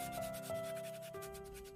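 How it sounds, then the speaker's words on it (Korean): Sandpaper rubbing over a hand-carved wooden red fox figure, quiet steady back-and-forth scraping strokes close up, with no voices. "이제 조각의 꽃이라 불리는 사포질을 해줍니다"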